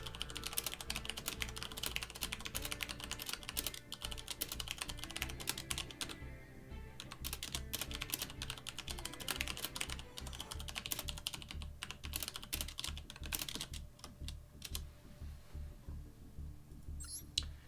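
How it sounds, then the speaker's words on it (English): Steady, continuous typing on a computer keyboard during a Libromancer game stream, close-miked dense clatter of keystrokes with a brief lull around the middle and a few occasional mouse clicks. "I'm typing notes for the editor."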